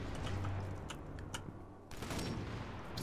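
Several sharp sniper rifle gunshots in the video game Sniper Elite 4 crack out irregularly over a steady low hum, with a brief dip in the background before it resumes.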